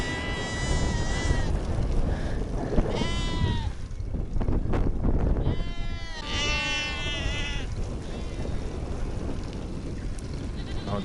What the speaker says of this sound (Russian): Козлы и козочки.